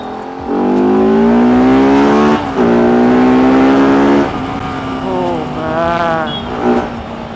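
A Bajaj Pulsar RS 200 motorcycle engine, after servicing and worn clutch plate replacement, revs hard in long rising and falling bursts, close by, then settles to a lower drone with a few more blips of throttle.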